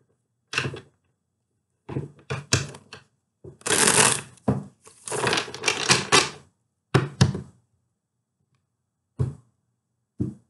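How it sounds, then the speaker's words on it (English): A deck of tarot cards gets shuffled by hand in several short, crisp riffling bursts separated by silent pauses, close and fairly quiet, with one longer flurry in the middle. "one more shuffle"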